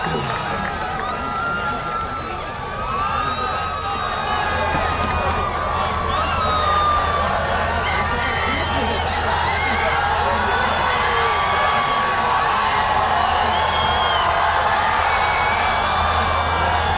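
A large audience in a university hall claps and cheers for a former prime minister, a dense continuous wash of applause with scattered whoops and shouts.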